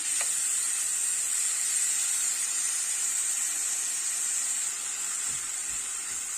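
Banana paniyaram mixture of mashed banana sautés in ghee over a lowered flame, giving a steady, close, even sizzling hiss that runs unbroken throughout with no voices.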